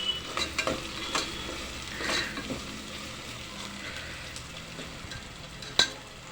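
Ginger and garlic fry in a pan with a steady broadband sizzle, broken by soft stirring scrapes and one sharper clink near the end, with no talking.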